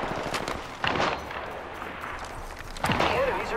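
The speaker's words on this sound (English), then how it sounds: "Getting shot at." Gunfire in Apex Legends Season 5, bursts of shots under game noise, with loud reports around one second and near three seconds.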